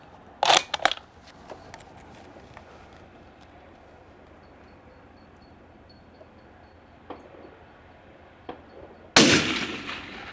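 Spanish FR8 rifle chambered in .308 fires outdoors: one loud sharp shot early, a few faint distant cracks in the middle, then another heavy blast with lingering rumble near the end.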